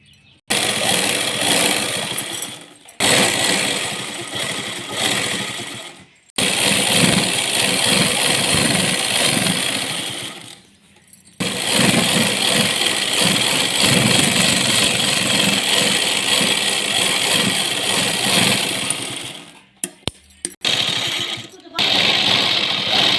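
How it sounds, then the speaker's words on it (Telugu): A sewing machine stitches a little girl's long frock in sustained loud whirring runs, each lasting several seconds, separated by short pauses, with a few quick bursts at the end. "ఇంకో ఇటు ఇటు కుట్టేస్తున్నాను."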